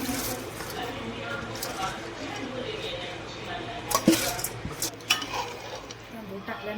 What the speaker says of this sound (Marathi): त्याच्यामध्ये आपण तांदूळ टाकू.